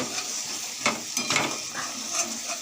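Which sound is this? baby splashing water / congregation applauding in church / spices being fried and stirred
spices being fried and stirred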